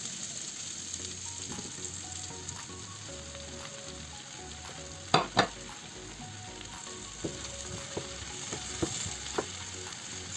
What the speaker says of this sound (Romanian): Acum că ardeii și ceapa mi s-au călit, am să pun o vinete exact așa cum sunt.